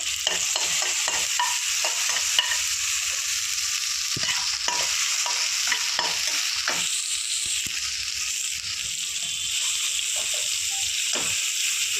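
Ginger garlic masala paste fries in a pan for a whole eggplant masala, with a constant close sizzle broken by frequent scraping spatula strokes as it is stirred, and no talking.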